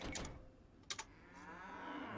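Cows lowing in Age of Empires II during a 4v4 team game, a couple of short moos surfacing over a steady game background hum, with brief clicks in between.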